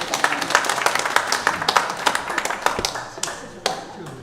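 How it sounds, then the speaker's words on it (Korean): Korean Methodist church congregation clapping in welcome during a Sunday worship service in Auckland, a quick burst of sharp close hand claps that thins out and trails off into a few scattered claps. "박수로 환영하겠습니다"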